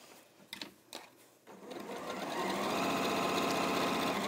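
Elna 720 Pro sewing machine top stitching a bag, beginning with a few separate clicks and short bursts before settling into a steady, loud, fast mechanical whir of stitching that runs to the end.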